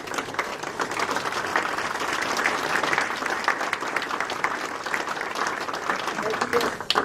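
Audience applause for a teacher at a town medal ceremony, a dense continuous roar of many hands clapping, loud and sustained across the whole stretch with a faint murmur of voices beneath.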